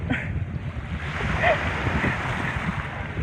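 Sea waves washing at a seaside beach, a continuous close rush of surf mixed with wind buffeting the microphone, moderately loud and steady throughout.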